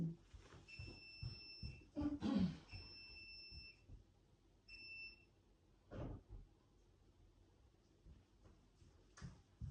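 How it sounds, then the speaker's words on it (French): A homemade-soup maker signals the end of its cycle with a series of high electronic beeps, some long and some short. Soft knocks and handling noises sound nearby in a quiet kitchen. "ça c'est le bip de ma petite soupe maison qui est terminée"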